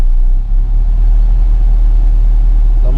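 A stick-shift car reverses under gas while the clutch is let out, giving a low, steady engine rumble close by for a few seconds, with no talk.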